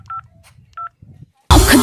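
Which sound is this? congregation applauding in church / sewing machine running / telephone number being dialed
telephone number being dialed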